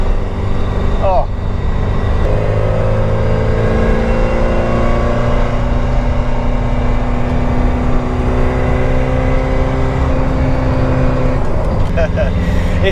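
A Porsche 944 drives along with its engine rising and falling through revs and gear changes, a loud continuous drone heard from inside the car, with a voice talking over it.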